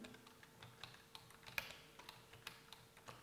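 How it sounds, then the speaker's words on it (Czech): Quiet, irregular key presses on a computer keyboard while typing Czech capital letters with Shift and diacritic keys: sparse soft clicks with one sharper tap midway, no voices. "tak zmáčknu levý Shift, háček a Ň"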